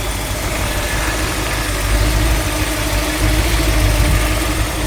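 A 1963 Corvette convertible's 327/340 V8, not the original motor, fitted with an Edelbrock high-rise manifold and electronic choke, idles steadily with a deep, even rumble close by, no voices.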